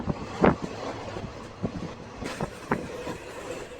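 Markapur Road–Guntakal passenger train running, with a steady rumble, intermittent clacks of the wheels over rail joints and wind buffeting the microphone throughout.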